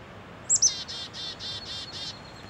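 Chickadees being hand-fed outdoors give a couple of sharp high chirps followed by a quick series of about six rapid buzzy calls, fairly close against a faint outdoor background.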